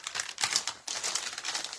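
Paper bag being opened for a paper rose craft, crinkling and rustling in a busy run of close, crisp crackles with a short pause midway, no talk over it.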